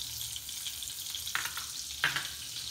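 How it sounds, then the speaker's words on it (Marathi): Butter sizzles as it melts into hot oil in a pan for butter chicken, a continuous close hiss with two sharp crackling bursts about halfway through. "तेल झाल्यानंतर त्याच्यामध्ये आपल्याला टाकायचं आहे बटर"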